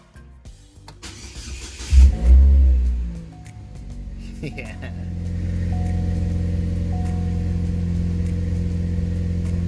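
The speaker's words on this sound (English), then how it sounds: "All right, let's start the car." A Chevrolet Cobalt SS cranks over with a brief starter whir, catches with a loud revving surge, then settles into a steady idle rumble close by; a voice briefly speaks at the start.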